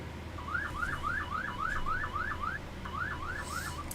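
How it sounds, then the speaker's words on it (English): A wavering electronic alarm from boats surrounding a ship at sea rises and falls in steady repeated sweeps, cutting out briefly before resuming, heard at moderate distance over a constant low rumble of engines and wind. "The alarm you're hearing is coming from the Israeli boats surrounding the ship."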